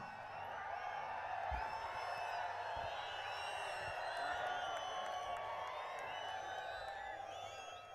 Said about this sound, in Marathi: शिट्या आणि टाळ्या माननीय उद्धव साहेब आणि राज साहेबांसाठी आहेत।